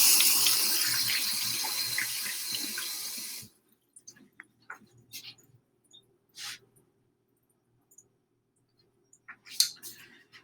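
Tap water runs steadily into a kitchen sink for a few seconds during handwashing, then shuts off, followed by a few faint clicks and knocks nearby.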